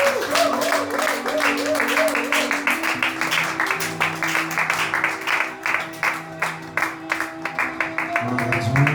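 A church congregation clapping in rhythm at a Tuesday service, the steady beat carrying on under a voice and organ-like music throughout.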